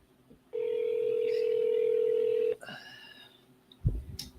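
A telephone call to a seller opens with a loud, steady two-second tone, then a short burst of dialing and ringback tones before a faint click and soft noise.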